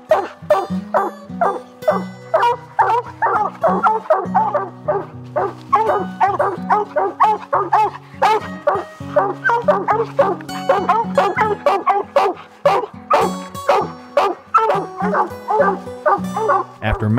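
Several raccoon hunting dogs bay and bark continuously at a treed coon in the Ozark hills, overlapping voices in a dense, loud chorus with yips and whines, close by and steady throughout.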